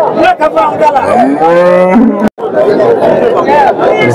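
Calves, HF and Jersey, moo at a busy Sunday cattle market in Chintamani: one long, drawn-out moo rises clearly over a steady hubbub of crowd chatter and people talking.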